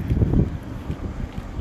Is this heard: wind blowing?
yes